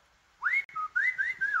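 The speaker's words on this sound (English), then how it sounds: "Whistles." A person whistles a short, clear melodic phrase of rising and gliding notes close to the microphone, alone without talk.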